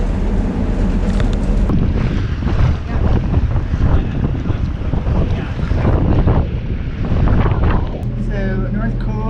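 Strong wind buffets the microphone aboard a sailboat at sea off New Zealand during a gale, a loud continuous roar with water and hull noise underneath.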